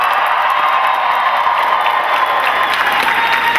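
A convention panel audience at Dragon Con applauds and cheers for Stranger Things, a dense, loud wash of clapping that runs steadily throughout.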